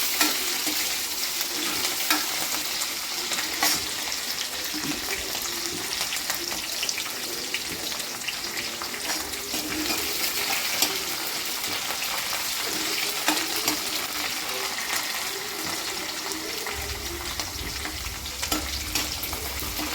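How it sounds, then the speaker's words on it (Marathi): Green chilies frying with browned garlic in a pan give a continuous crackling sizzle with occasional stirring scrapes, close and steady throughout with no talking. "याच्यामध्ये आपण हिरवी मिरची टाकून घ्यायची. हिरवी मिरचीला छान परतून घ्यायचं."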